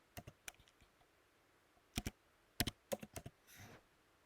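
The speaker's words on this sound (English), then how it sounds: "you're going to type in Amazon." Typing on a computer keyboard: scattered single keystrokes, then quick clustered bursts of clicks, close and quiet in an otherwise still room.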